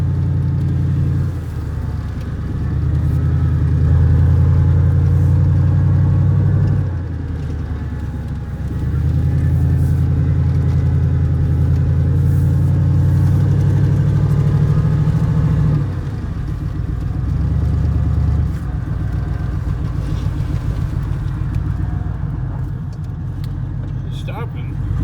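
A car engine idles and revs with only headers and no exhaust system fitted, a loud, raw, low rumble swelling in several sustained bursts over about 25 seconds, with a voice talking faintly over it.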